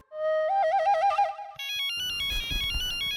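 A mobile phone ringtone plays loudly and close: a warbling electronic melody that shifts midway into a brighter, busier chiming tune over a low beat, with no voices.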